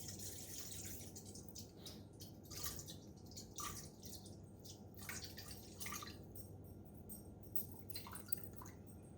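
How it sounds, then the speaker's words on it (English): Tap water runs steadily into a bowl on a kitchen scale for sourdough baking, a faint continuous trickle with small splashy drips, heard alone. "I just take it straight from the tap"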